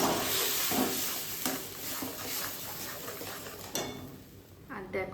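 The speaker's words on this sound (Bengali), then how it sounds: "এবার কষিয়ে নেব।" Spice masala sautéing in a pan, with quiet sizzling hiss and occasional scraping clinks of a stirring utensil, close and soft, a voice briefly heard near the end.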